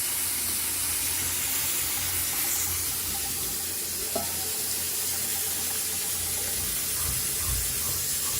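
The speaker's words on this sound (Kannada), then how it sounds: "ಈ ಕುಕ್ಕರ್ ನೋಡಿ, ಒಳ್ಳೆ ಕಂಪ್ನಿ ಕುಕ್ಕರೇನೆ. ನೋಡಿದ್ರಾ, ಆದ್ರೂ ಪುಸ್ ಅನ್ನುತ್ತೆ ಎಲ್ಲ ನೀರು." A pressure cooker cooking rice hisses steadily as water sprays out, a continuous close rushing hiss with no talk.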